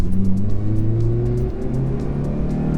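A car on a test drive just after a DIY transmission fluid change, its engine droning steadily close by with tones that rise and shift as it pulls along, no voices.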